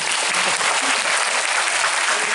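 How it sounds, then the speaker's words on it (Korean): Dense, loud applause from a film screening audience at a Busan International Film Festival guest visit, sustained and even with no talking. "박수 한번 부탁드립니다"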